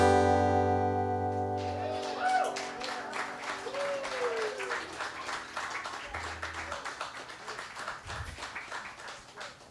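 Scattered audience clapping rises at a tuning-up concert, with string instruments sounding sustained notes and glides over the applause, which stays moderate and a little distant throughout.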